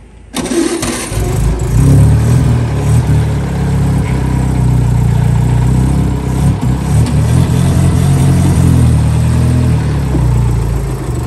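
A car engine catches abruptly and settles into a loud, close, steady running rumble that continues for about ten seconds without speech.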